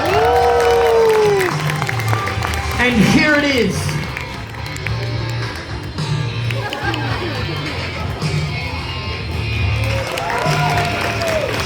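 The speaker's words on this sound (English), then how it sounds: "If I do a fancy finish, everyone clap" At a fun fair circus, the audience claps and cheers after a performer's fancy finish, loud crowd noise mixed with chatter, whoops and a voice talking over it.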